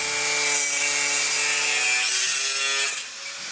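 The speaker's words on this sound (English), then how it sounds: "From this goes with this QM disc, specialty for stainless steel. So we're going to go ahead and cut it." A QM cutting disc made for stainless steel slices through a stainless linear shower drain, giving a loud, steady, close grinding whine with a ringing tone that shifts and drops off near the end.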